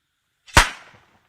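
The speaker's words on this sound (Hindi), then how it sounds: "ये है वो धमाका जिसके डर से भेड़िए यहां से भाग जाएं" One sharp, loud blast of a homemade gunpowder firecracker, set off to scare away wolves in Bahraich, Uttar Pradesh, close by, with a brief crackling tail fading out after the bang.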